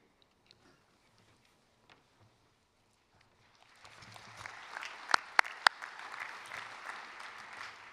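After several seconds of near quiet, applause swells at a university commencement ceremony in a field house, building into a broad, steady clapping with a few sharp louder claps standing out.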